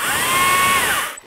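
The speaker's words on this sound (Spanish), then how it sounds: "Motosierra que va a batería y a batería pequeña." A small STIHL battery-powered chainsaw runs at high speed with a smooth, whining electric motor note that holds for about a second, then cuts off and winds down abruptly.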